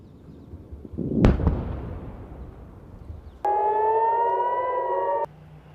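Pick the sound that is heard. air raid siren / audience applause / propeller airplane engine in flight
air raid siren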